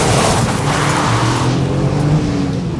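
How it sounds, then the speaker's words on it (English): A Toyota GR Yaris drifts with its engine loud and strained close by, tires hissing and scrubbing across the surface in a continuous rush of car noise. "So you can drift this one"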